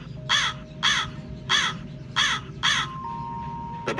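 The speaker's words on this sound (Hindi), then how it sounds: "उसी वक्त बाहर कौवा चिल्लाता है" A crow cawing outside: five loud, harsh caws at an even pace, close and clear over a quiet background hum, ending with a brief click.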